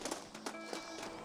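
Horses in the Red Dead Redemption video game, with soft clip-clop hoof taps and a brief whinny-like tone over a busy background of game ambience, fairly quiet throughout.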